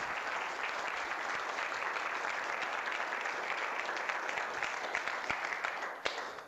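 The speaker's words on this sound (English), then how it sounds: "give a round of applause to our guests" An audience gives a round of applause for the guests, steady dense clapping for about six seconds with a few sharp individual claps standing out before it tapers off.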